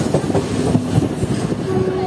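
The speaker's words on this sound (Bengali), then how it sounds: "আমাদের ট্রেন এখন ক্রস করছে বর্ধমান" Kaviguru Express rolling past Bardhaman on the Azimganj–Howrah run: a steady rumble of wheels and carriage noise with faint irregular clatter throughout.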